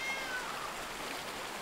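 A cat in the Blacktail video game gives a faint meow over a steady hiss of flowing water, quiet and brief.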